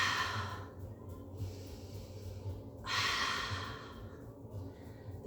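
Slow, audible breaths come in long airy waves, an inhale and a longer exhale, during a Pilates heel-click exercise on the mat. A faint low hum runs underneath, and no one talks.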